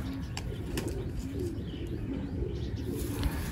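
Pigeons coo in low, soft, repeated murmurs close by, a steady throaty rumbling with faint chirps above it.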